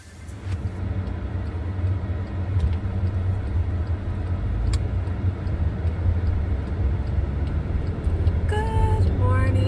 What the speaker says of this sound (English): I'm in the car headed to work.